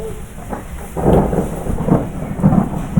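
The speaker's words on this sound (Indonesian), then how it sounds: "Ada petir sepertinya." Thunder during a storm rolls as a low, deep rumble with swelling bursts, close and fairly loud, over a steady wash of rain, with no speech.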